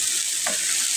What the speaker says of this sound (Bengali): পেঁয়াজ কাঁচামরিচ সব কিছু ভাজার পরে খুদটা দিয়ে দিলাম।